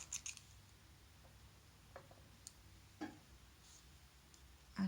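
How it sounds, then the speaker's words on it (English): Several soft, sharp snips of scissors cutting crochet yarn while fastening off, scattered irregularly across a quiet room with faint background hiss and no talking. "cut the yarn off"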